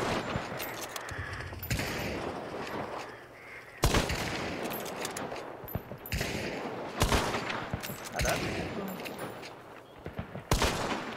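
Mosin sniper rifle shots in a video game crack out about six times at irregular intervals, each a sharp, loud report over background game noise, with a brief spoken exclamation in between.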